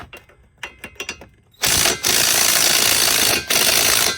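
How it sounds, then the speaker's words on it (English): Quick ratcheting clicks from a wrench on a car bolt that won't loosen, then a loud sustained grinding, rattling burst of a power tool working on the bolt, briefly pausing twice. "you want to hold that shit with the wrench"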